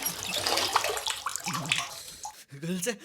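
Water running and splashing as someone bathes, a continuous close pour with sloshing, broken by short bursts of voices.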